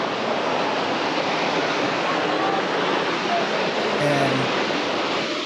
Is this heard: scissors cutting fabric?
no